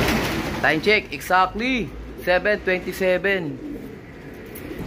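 Pigeons arriving during training in Ibaan, Batangas, coo in repeated soft, throaty phrases close by, while a person speaks briefly over the calls.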